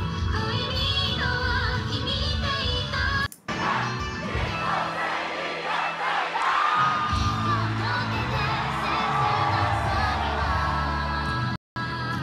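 A concert crowd roars, whoops and yells along with the performers, loud and sustained throughout with only brief cuts, voices massed together.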